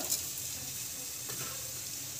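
Mustard seeds and cumin sizzle in hot cooking oil with a steady, close, unbroken frying hiss and no voices.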